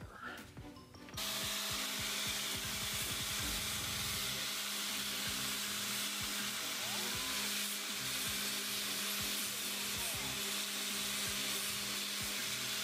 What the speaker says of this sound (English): which most people use to sharpen the blade, I'm going to be using an angle grinder